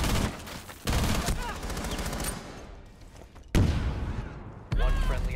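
Gunfire in Rainbow Six Siege, dense close bursts of automatic rifle shots with sharp cracks and crashes, loud throughout, with players talking over the shooting.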